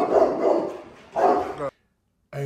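A police K9 barks at two criminals during a gang-attack scenario, giving a couple of loud, close, deep barks in quick bursts, then a pause before another bark starts.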